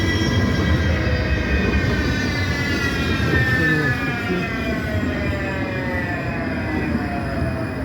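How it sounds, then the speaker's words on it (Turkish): A tram rolls along the rails with a continuous rumble and a rising-and-falling metallic whine from the wheels, loud and close the whole time. "Tramvayı bekliyoruz bakalım"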